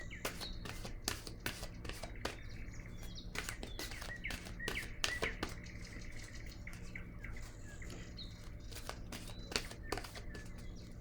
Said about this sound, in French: Allons-y maintenant avec une nouvelle carte.